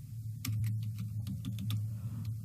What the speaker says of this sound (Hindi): और टाइप करूंगा लीड